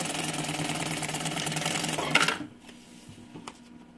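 A sewing machine stitches a 0.5 cm seam on a small two-in-one backpack, whirring steadily at close range for about two seconds before stopping abruptly, followed by faint mechanical clicks.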